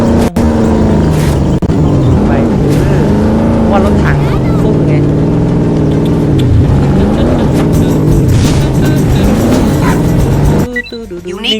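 An Aston Martin in the PS2 game 007 Everything or Nothing drives with a loud, steady engine drone that rises and falls in pitch, with game music layered in and talk over it, cutting off abruptly near the end.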